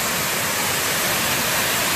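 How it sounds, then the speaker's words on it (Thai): The Khlong Nam Lai waterfall, a clear-water cascade, gives a steady, loud, even rush of falling water with no voices over it. "นี่คือน้ำตก"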